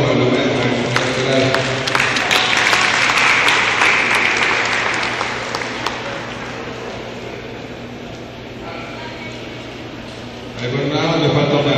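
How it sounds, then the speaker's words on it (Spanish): An audience at a conference applauds a teacher with loud, sustained clapping that gradually thins and fades before a voice resumes near the end. "Un aplauso, por favor, para la maestra."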